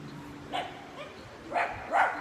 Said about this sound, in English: There's a dog, sorry.